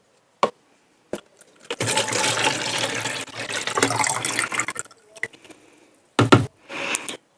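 Milk pours steadily into a container for a few seconds, splashing and gurgling, then stops; a couple of short knocks and brief pours follow.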